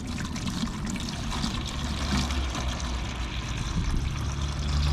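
Water trickles and pours off from a bucket into a smaller container, a steady close dribble holding at an even level through the short stretch.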